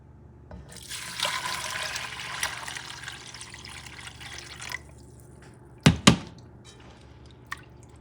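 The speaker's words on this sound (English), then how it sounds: "Add some water." Cold water pours steadily into a pot, a bright continuous rush lasting several seconds before it stops, followed by a couple of sharp clanks and scattered drips.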